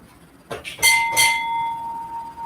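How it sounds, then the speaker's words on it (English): A hand bell rings twice in quick succession, loud and close, then a bright tone lingers and fades slowly in a quiet room. "but Kenny, in New Zealand, this bell's for you today"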